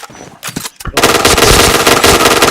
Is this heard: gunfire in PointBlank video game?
yes